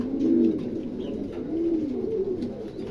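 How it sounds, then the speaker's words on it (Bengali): Pigeons being shown for sale coo nearby in soft, low, repeated rolling calls, with a few brief pauses between coos and no talking. "দেখেন খুবই চমৎকার দুটো কবুতর"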